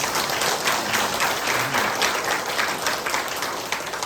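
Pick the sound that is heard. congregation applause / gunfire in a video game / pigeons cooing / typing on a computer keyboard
congregation applause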